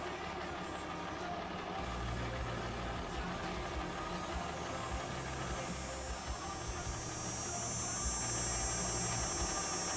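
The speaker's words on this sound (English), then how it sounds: "We're gonna get the other tractor out" A tractor engine in Farming Simulator 25 turns over and settles into a steady low idle, droning evenly under faint game ambience for the rest of the moment.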